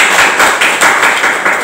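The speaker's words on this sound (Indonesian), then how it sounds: "terima kasih aplaus untuk kita semua" Audience at a school learning-community event clapping, a loud, steady patter of many hands with faint rhythmic pulses, continuous through the short stretch.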